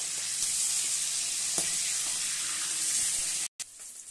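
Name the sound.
fish frying in a pan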